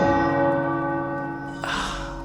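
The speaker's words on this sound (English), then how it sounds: "The tower bells are ringing." Tower bells ring in a video game, resonant and sustained with a deep humming decay, a fresh strike landing near the end over the lingering tone.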